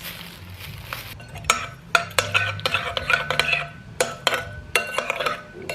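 Spoon scraping and clinking around a pot while breakfast is mixed in Kumasi, Ghana, a steady run of close metallic strokes over a low background hum.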